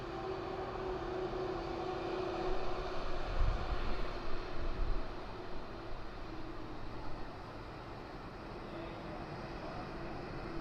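An Air India Boeing Dreamliner at Birmingham Airport produces a steady, distant engine rumble with a low hum, swelling slightly midway before easing off, with no talk.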